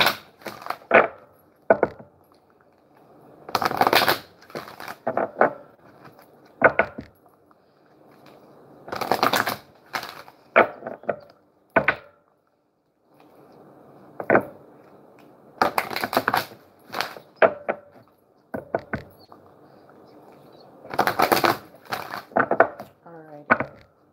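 Oracle cards being shuffled by hand, repeated bursts of crisp riffling and slapping in clusters separated by brief pauses, close and fairly loud with no talking.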